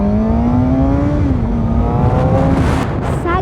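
A Suzuki GSX-R750 sport motorcycle with a Yoshimura exhaust drones loud and steady, its pitch easing slightly then climbing in a brief rev toward the end, with no voices.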